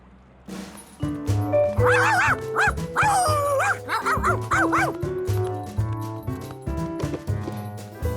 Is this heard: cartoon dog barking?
yes